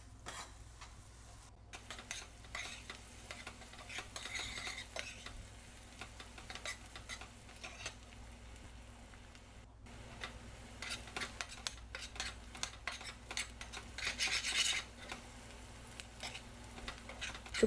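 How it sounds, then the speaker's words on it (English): Onions and turmeric sauté in a pan with a soft, continuous sizzle, broken by occasional stirring scrapes and light clinks of a utensil against the pan, fairly quiet throughout. "Here I'm just showing you just a few minutes of sauteing, just till turmeric kind of cooks a little bit and onions start"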